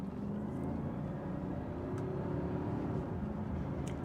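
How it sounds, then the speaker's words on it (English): A Bentley Continental pulls hard through the gears in sport mode, its engine a steady, dense rumble from inside the cabin without clear shift breaks. "we'll do my traditional pull through the gears, put it in sport, and then let's see what this baby can do"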